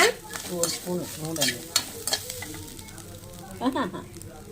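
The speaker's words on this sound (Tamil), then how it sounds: "அதை போட்டு எண்ணெயில் பொரிச்சு எடுத்துக்கலாம்." Grated coconut sizzles and crackles in hot oil in a pan, with repeated stirring scrapes over the frying; a voice briefly speaks in the background.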